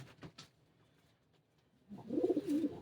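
Pet pigeons cooing softly in a home loft, a faint short call early, then a louder, closer burst of throaty coos near the end.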